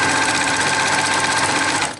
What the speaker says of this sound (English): I'm just going to pull my pin and do a couple of back stitches just to give it a little extra strength